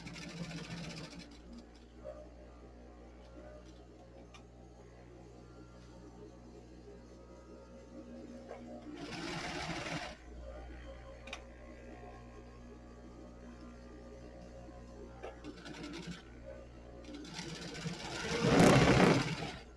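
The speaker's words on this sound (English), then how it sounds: "I'm just going to baste stitch around the pocket" A sewing machine runs a baste stitch around the pocket of a potholder, a steady mechanical hum with a few louder bursts of stitching.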